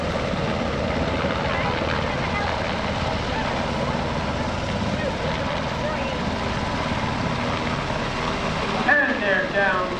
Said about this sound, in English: get in the helicopter, and fly out the normal way